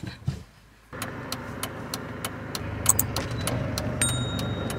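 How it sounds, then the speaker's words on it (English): A car engine accelerates inside the vehicle, a low engine hum rising after a near-silent start, with scattered clicks and rattles from the cabin and no talking. "And now you can accelerate."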